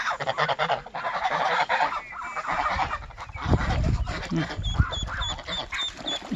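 Geese and ducks in muddy village ground honk and quack loudly in a noisy flock, with a burst of repeated high calls near the end, while people talk among them.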